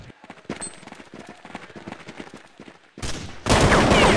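Rapid bursts of gunfire from a tactical shooter match, sharp repeated shots spread across the first three seconds, followed by louder sustained blasts and noisy roars near the end.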